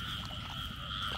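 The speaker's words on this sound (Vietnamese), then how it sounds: "giờ này ếch còn kêu rồi" Frogs croak continuously in a rural Mekong Delta setting at night, a dense steady chorus of calls with no talking.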